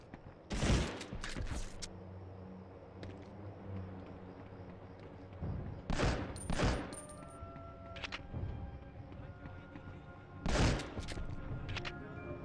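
Bursts of MP40 submachine gun fire from the World War II shooter game Medal of Honor Underground, set in Paris, come in three loud clusters around the one-, six- and ten-second marks over a steady low game background.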